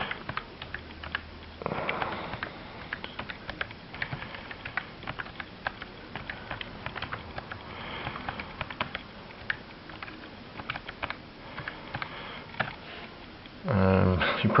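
Fingers type on the small keyboard of a Psion 5 handheld computer, making soft, quick, irregular clicks that run throughout while a person talks nearby.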